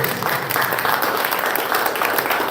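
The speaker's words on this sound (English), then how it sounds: "if we can give a round of applause to our panelists" An audience at a marketing group launch event gives its panelists a round of applause: dense, steady clapping from many hands, fairly close and loud for a few seconds with no talking.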